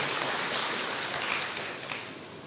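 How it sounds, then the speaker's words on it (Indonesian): A church congregation breaks into steady, dense clapping that fills the room evenly for a few seconds, with no voices standing out, then eases slightly toward the end. "Berikan tepuk tangan yang meriah buat Tuhan"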